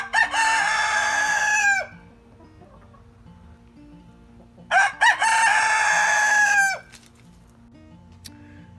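A backyard rooster crows loudly twice, close up, each crow a long strained call lasting about two seconds. A quiet pause with faint background noise separates the two crows.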